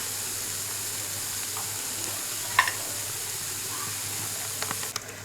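Spices and turmeric stirred and roasted in a hot pan on the stove: a faint, steady sizzle with scraping stir sounds, a sharper clink near the middle and a few more toward the end, no talking.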